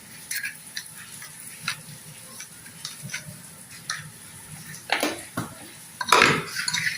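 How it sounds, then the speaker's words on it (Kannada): Salt is poured into a pressure cooker heating on the stove before a semolina mango cake is baked, heard as soft scattered granular patters and light metallic clinks, with a few louder scraping rattles near the end. "ಅದರ ಕೆಳಗಡೆ ಒಂದು ಸ್ವಲ್ಪ ಉಪ್ಪು ಹಾಕ್ತಾ ಇದ್ದೇನೆ ನಾನು"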